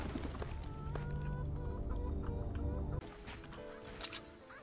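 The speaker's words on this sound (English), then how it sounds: "Look at all the chickens!" Chickens cluck in a video game, several birds calling over a busy, dense game soundscape with tonal music and effects; the layered sound cuts sharply partway through.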